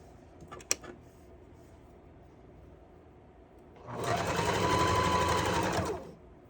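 After a brief click and a quiet pause, a sewing machine runs in one steady, close burst of about two seconds, stitching the sides onto a panty, then stops.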